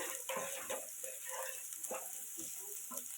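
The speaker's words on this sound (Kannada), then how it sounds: "ಚಂದ ಐದು ನಿಮಿಷ ಫ್ರೈ ಆಗಲಿ" Paneer fries in a pan for chilli paneer, a soft, continuous sizzle with faint stirring knocks, quiet and close with no talk.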